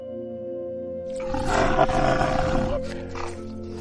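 A cartoon tiger gives one loud, rasping roar that swells and then cuts off, over a soft background music bed in an animated jungle scene.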